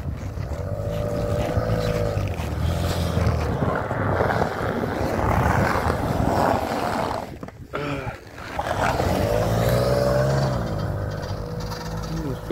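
A Toyota Land Cruiser Prado stuck in snow revs its engine loudly and continuously close by, the roar rising and falling across the whole stretch with a brief dip near the middle, while people talk over it.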